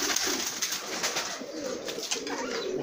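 Pigeons of the buchón sureño and buchón jerezano breeds cooing in a loft, a soft, continuous, fairly distant murmur of coos with no talking.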